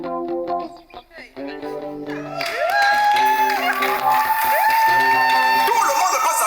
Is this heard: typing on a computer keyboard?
no